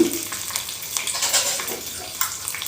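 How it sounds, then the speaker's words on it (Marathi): Chilies and asafoetida fry in hot oil for a coconut chutney tempering, giving a continuous close crackling sizzle with scattered small pops and light scraping. "थोड्या लालसर होऊ द्यायच्या. हिंग टाकायचं."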